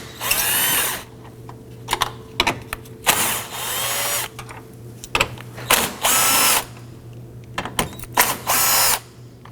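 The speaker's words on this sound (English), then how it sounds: "Loosen and remove those using your 10mm socket." A socket ratchet zips in quick, loud bursts while 10mm bolts are loosened and removed across the front grille of a 2018-2024 Toyota Camry, with short pauses between strokes.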